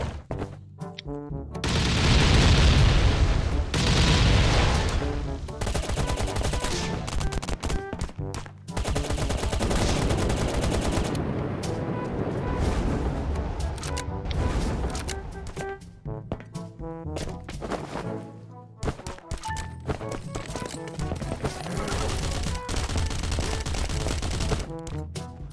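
Handmade explosives and a bazooka blasting a player base in the survival game Last Island of Survival, loud, dense bursts of gunfire-like blasts and booms rolling on almost without pause, with a few short gaps.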